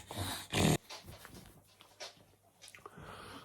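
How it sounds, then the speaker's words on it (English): A dog snorts loudly up close with a sharp burst, then lower rumbling growls and breathy snuffling follow, with faint movement in the background. "Bloody dog."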